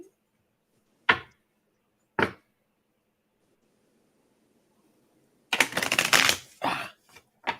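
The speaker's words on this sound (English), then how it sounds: "Shuffling cards still is not my favorite thing to do at this point in my life." Playing cards shuffled for a twelve-month card reading: two sharp isolated snaps, then a dense papery riffling burst that trails off into a few quick flicks, close and fairly loud.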